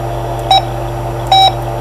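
Two short electronic beeps from a telephone call, each about a tenth to a fifth of a second long with a clear steady tone, spaced under a second apart over a constant background hum.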